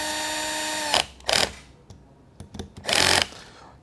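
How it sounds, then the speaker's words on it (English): A power drill driving a screw while a bicycle front light is fitted, heard as several short whirring bursts with quiet gaps between them. A steady tonal hum runs underneath for the first second. "if you've got a power drill"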